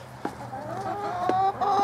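Backyard chickens cluck in short, soft bursts over a low steady hum, a few closer calls standing out in under two seconds with no talking.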